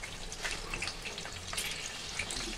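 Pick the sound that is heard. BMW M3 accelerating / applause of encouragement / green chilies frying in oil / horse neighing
green chilies frying in oil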